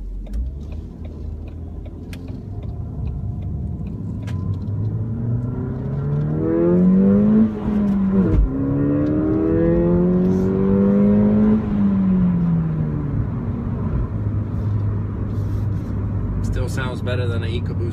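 A Ford Fiesta ST engine climbs through the revs while driving, its rising drone sweeping up, easing briefly and climbing again beneath steady road and wind noise, close and fairly loud.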